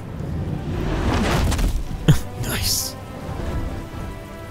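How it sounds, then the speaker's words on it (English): Rain patters steadily in the Batman: The Telltale Series game soundscape at night, with a whooshing sweep and a couple of sharp effects layered over the constant downpour. "and it's raining. Everything goes down when it's raining."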